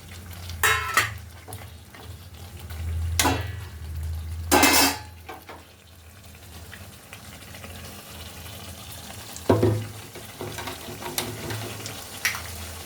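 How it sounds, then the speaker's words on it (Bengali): Fish frying in spiced oil in a pan, a faint sizzle broken by several sharp metallic clanks of utensil on pot and scraping stirs, loud and close, no voices. "এবার মাছগুলো দিয়ে দিচ্ছি"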